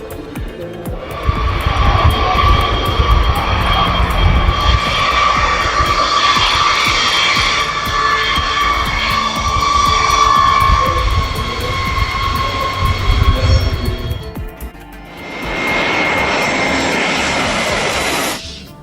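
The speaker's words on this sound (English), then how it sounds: "The B-52H Stratofortress flew in and landed at Fairford RIT 2023, an incredible sight up close." A Boeing B-52H Stratofortress bomber landing and taxiing at Fairford RIAT 2023, with a loud, sustained jet engine roar and whine close by that eases briefly and then returns as a steady rushing drone, with no voices.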